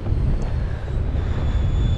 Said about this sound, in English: It's a bit windy out here on this western little coast here